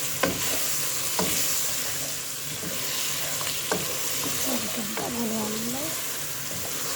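Spiced meat fries in a pot as a spoon stirs it, with steady close sizzling and occasional scraping clicks, while someone talks quietly over it.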